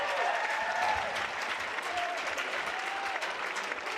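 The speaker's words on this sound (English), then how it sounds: "Fans are cheering." Fans cheer and applaud a long rally point at the Rate Vegas Cup pickleball match between Federico Staksrud and Marshall Brown, a dense, steady wash of clapping and crowd noise with brief whistles, loud throughout.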